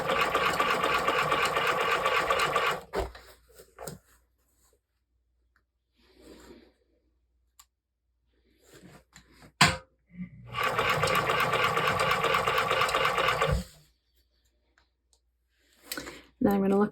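Sewing machine stitching leather for fur mittens, running in two sustained bursts of rapid clatter separated by quiet pauses with a few clicks and soft handling sounds.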